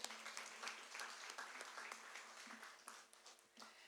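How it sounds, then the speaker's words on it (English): Audience applause at a public discussion event, a dense, steady patter of many hands clapping for about four seconds, heard from some distance with no voices over it. "Can we please have a round of applause for her?"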